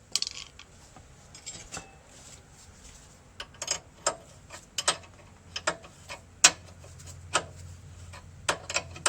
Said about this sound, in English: we'll tighten that ball joint up first